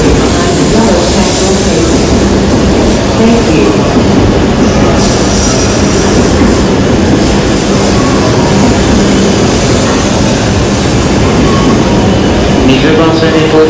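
A train pulls into a platform at Tokyo Station with a loud, continuous rumble of wheels and rolling noise, while a station announcement plays over it throughout.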